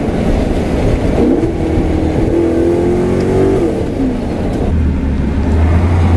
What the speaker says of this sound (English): One more time with this downshift.